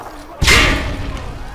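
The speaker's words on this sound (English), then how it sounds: "Toss the grenade down the range to take out several targets at once." A frag grenade tossed down a firing range in Call of Duty Modern Warfare 2 lands with a single loud thud and burst, trailing off into a rumbling decay over low background noise.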